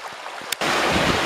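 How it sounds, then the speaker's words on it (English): A waterfall on Sulphur Creek in Utah rushes loudly and steadily close by, starting abruptly after a moment of lighter noise and continuing as a dense, unbroken roar. "now here's the first waterfall, and this is pretty deep"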